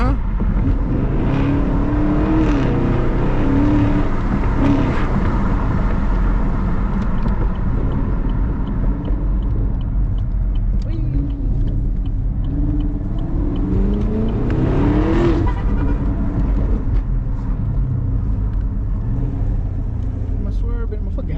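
Engine of a new Chevrolet Camaro SS rumbling and revving under steady acceleration from inside the car, a loud continuous drone that rises in pitch and swells twice, with people talking over it.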